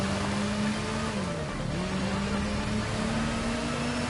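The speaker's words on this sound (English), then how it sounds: "I do like the sound of the bike as well." Batcycle motorcycle engine in the video game Gotham Knights, a steady droning hum with slight pitch dips and rises as the bike cruises, continuous and fairly loud with no talk.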